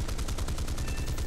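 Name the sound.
Typhoon Mk. 1B four 20mm cannons firing, War Thunder video game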